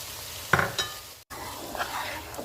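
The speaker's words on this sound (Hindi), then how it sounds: "और इनको हम 3-4 मिनट तक भूनेंगे।" Vegetables with dried coriander, cumin and green chillies for a vegetable pulao are stirred and fried in a pan, giving a short scraping stir, a soft sizzle and a brief clink partway through.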